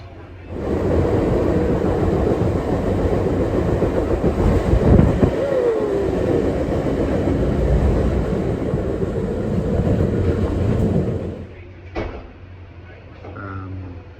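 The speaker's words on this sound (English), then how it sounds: "while the train's beating along" A Rocky Mountaineer passenger train rumbles and clatters steadily along the tracks, heard loud and close from an open-air vestibule, then the noise drops away near the end with a sharp knock.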